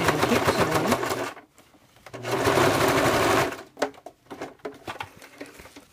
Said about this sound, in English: So I'm going to press with my finger and keep sewing.